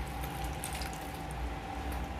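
Water runs steadily into a cooking pot with a soft, continuous splashing hiss, fairly quiet and close, no voices.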